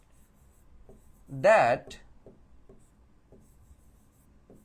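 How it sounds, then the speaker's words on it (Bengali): Writing on a board in an English class: a few short, scratchy strokes spread out over the clip, with a brief spoken word in between. "আমি এখানে লিখলাম"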